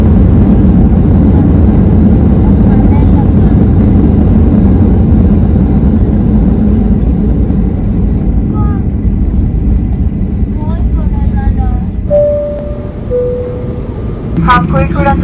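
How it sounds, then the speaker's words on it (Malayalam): A SpiceJet passenger plane lands at Calicut airport, heard from inside the cabin as a loud, steady engine and rumble roar that eases slightly toward the end, with faint chimes near the close. "നമ്മുടെ ഫ്ലൈറ്റ് ഇറങ്ങി. പിടിച്ചോ, ബ്രേക്ക് പിടിച്ചോ."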